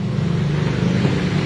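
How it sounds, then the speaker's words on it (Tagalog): An electric motor runs inside a Ford car with a steady, low, close hum that lasts the whole brief moment, with no voices. "Maririnig nyo naman nagagana yung motor."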